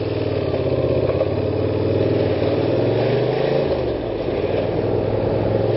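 A motorcycle ridden through the streets of Rome, its engine humming loud and steady up close, the pitch dipping as the bike slows near the end.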